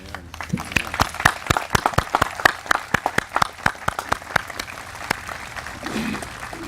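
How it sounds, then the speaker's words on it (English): Audience applause at a Memorial Day observance, a steady burst of many hands clapping that carries on for several seconds, then thins out toward the end. "I'd like to give them a round of applause."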